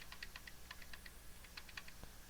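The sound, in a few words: pressing Control, Shift and arrow keys on a computer keyboard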